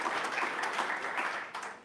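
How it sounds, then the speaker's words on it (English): A conference audience at EUCAD 2025 gives a short burst of applause for three students after their talk on stage. The clapping is moderately quiet and thins out toward the end. "another round of applause for our 3 students"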